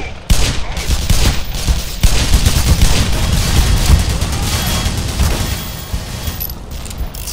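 Rapid bursts of gunfire and booming shots in the video game Black Mesa, loud and close, with a dense rattle of repeated firing.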